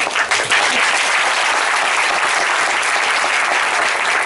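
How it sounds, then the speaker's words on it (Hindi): A room full of people applauds loudly in a seminar-style talk, a thick, unbroken burst of clapping that holds at full strength throughout, with no speech over it. "इसको जोरदार ताली बोलते हैं।"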